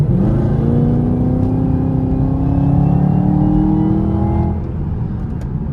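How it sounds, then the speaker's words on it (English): A Chevrolet Camaro ZL1 with a supercharged LT4 engine runs at partial throttle, a loud, steady engine drone topped by a rising supercharger whine that fades as the throttle eases near the end. "Here's a little closer, but not full throttle, and we'll listen for that supercharger."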